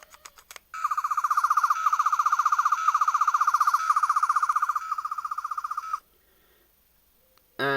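A toy sonic screwdriver of the Third Doctor from Doctor Who gives a rapid, warbling electronic whine, steady for about five seconds before it cuts off, and a brief burst follows near the end, loud and close with no voices.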